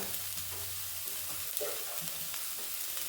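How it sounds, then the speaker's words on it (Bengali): Vegetables for a chicken vegetable soup are stirred in a pot, giving a soft, steady sizzle and gentle scraping at low volume. "সবজিগুলো নেড়ে নিয়েছি, খুব বেশি নাড়ার দরকার নেই,"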